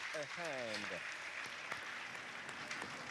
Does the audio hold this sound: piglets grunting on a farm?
no